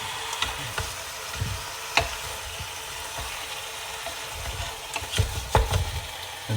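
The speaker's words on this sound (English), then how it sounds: "I can already smell and hear the onions caramelizing." Onions caramelizing in an Instant Pot, stirred with a spatula, give a soft, low sizzle under scattered scrapes and knocks of the utensil against the pot.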